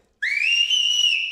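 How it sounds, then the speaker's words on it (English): A person lets out a single loud, piercing whistle close to the microphone, rising sharply and then holding steady for over a second in otherwise silence. "you're in trouble if she whistles like that at you"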